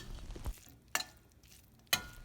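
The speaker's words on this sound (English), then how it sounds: "Mix the powders with the lady's finger very well." Lady's finger coated in spice powders is stirred in a pan, with two sharp utensil scrapes about a second apart over a quiet low bed of soft sizzle.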